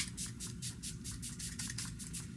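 A pump-action bottle of anti-hot-flash makeup setting spray fires a rapid series of short, close misting bursts in an even rhythm, with no voices.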